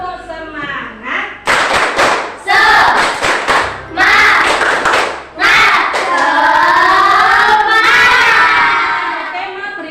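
A primary school class doing the 'tepuk semangat' clap chant, with patterned bursts of hand claps and thumps under loud children's voices chanting in unison, near and lively, ending in a sustained shout.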